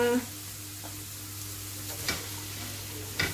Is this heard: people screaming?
no